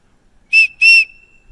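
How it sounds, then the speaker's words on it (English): Two sharp, piercing survival whistle blasts in quick succession, the second slightly longer, shrill and very loud up close. "That is a really, really obnoxiously loud whistle."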